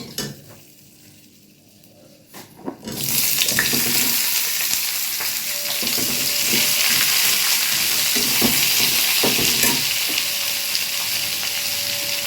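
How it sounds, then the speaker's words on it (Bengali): Onions go into a hot pan for mutton kosha, after a quiet stretch of stirring and clinks, and a loud, steady sizzle rises and continues, with occasional spoon scrapes and clatter against the pan. "পেঁয়াজ আমি পুরো ভাজবো যতক্ষণ না পেঁয়াজ লাল লাল হয়ে যাবে।"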